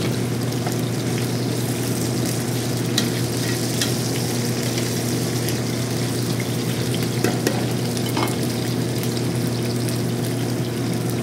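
Potatoes frying in oil in a pan for chicken adobo, a loud continuous sizzle with crackling pops and occasional stirring, steady throughout with no talk.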